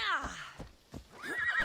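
A horse in a video game lets out a loud, close whinny that falls in pitch, followed by a few soft hoof clops and a second shorter neigh.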